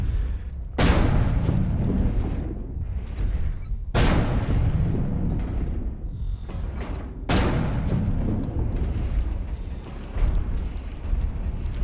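LRM missile barrages in the mech combat game Mechwarrior Online hit as three loud booming blasts, each with a sharp onset and a long rumbling decay, spaced about three seconds apart. No voices are heard.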